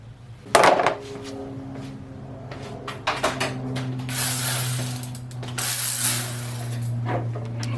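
Plastic belly pan being pulled off the underside of a VW MK7 GTI, with a sharp clip pop near the start, then rattling, scraping and clattering of the panel and fasteners close by, with no talk.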